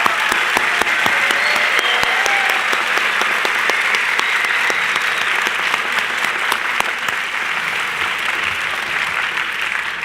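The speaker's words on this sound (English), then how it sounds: "I would like to ask you to join me in congratulating again all 7 of our recipients today." An audience at a distinguished alumni awards ceremony claps for award recipients in a sustained, full round of applause that fades slightly toward the end.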